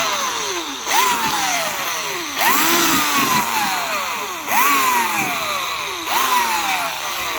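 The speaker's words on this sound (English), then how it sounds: "take your drilling machine on a nice slow speed and start polishing" A handheld drill turns slowly with a polishing disc on a vehicle headlight lens, its motor whining up and easing off in four repeated pulses, each starting with a rising tone that then sags, loud and close with no talking.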